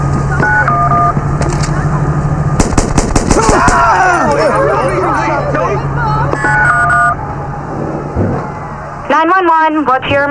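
Bursts of rapid gunfire from Watch Dogs crackle amid sirens, electronic tones and chaotic game effects, with a voice speaking over the noise.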